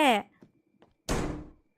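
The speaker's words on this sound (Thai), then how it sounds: "เสียงประตูมันก็ดังเหลือเกิน" In the pixel video game Point Click Killer, a door sounds with one soft, short, muffled whoosh-thud after a brief spoken word and a moment of near silence.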